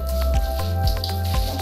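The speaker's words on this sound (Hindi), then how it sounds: "ये देखिए कुछ ऐसा पानी निकल रहा है इसमें से" Water gushes steadily from a newly installed Jaquar jacuzzi bathtub, with a close, continuous watery rush broken by soft dripping squishes and gurgles and no talking.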